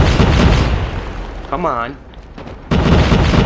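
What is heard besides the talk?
bombs exploding in the video game CrossFire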